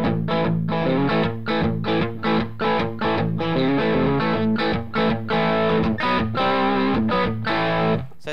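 A Fernandez 70s Strat copy played through a Ceriatone JTM 45 amp gives a warm, saturated distortion tone, loud chugging chords and sustained notes in a steady rhythm with short pauses between strums, with no talking.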